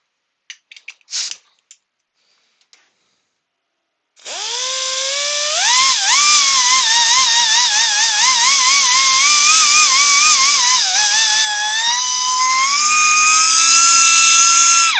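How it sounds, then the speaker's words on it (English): A power sander runs steadily for about ten seconds on a textured surface, loud and close, with a high whine that shifts pitch as pressure changes. A few light knocks come before it starts. "Just going to sand that back again just to clean it up."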